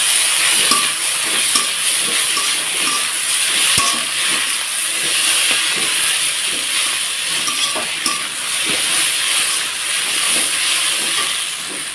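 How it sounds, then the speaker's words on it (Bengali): Chowmein noodles tossed with egg and winter vegetables sizzle steadily in a hot pan, a continuous bright hiss with faint scraping from stirring, close and even throughout, with no talking. "এটা এখন এই যে চাউমিনটা আছে এটাকে আবার দিয়ে ফ্রাই করে নেব।"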